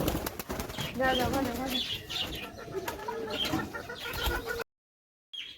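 Chickens cluck and squawk close by amid rustling and wing flaps, with a call from a young rooster just learning to crow in the mix, then a brief silence near the end.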